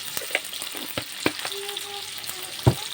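Potatoes frying in oil, a crisp crackling sizzle close by with sharp spoon taps and scrapes against the pan every second or so, no speech.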